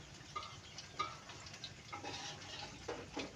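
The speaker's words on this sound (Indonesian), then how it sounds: "Goreng gedang awan-awan." Bananas frying in hot oil in a small home kitchen give a quiet, steady sizzle with intermittent crackles and the tick of stirring.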